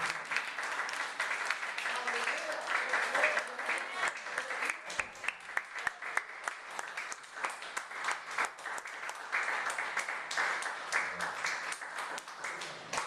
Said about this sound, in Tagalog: Isa pang palakpak habang di ko nakikita.